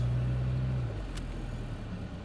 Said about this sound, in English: Do a quick braking test.